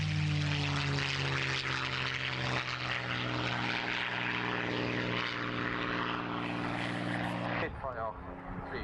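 A Spitfire propeller fighter flies at the 1992 Gardermoen airshow, giving a loud, sustained engine drone that rises in pitch and then shifts abruptly near the end.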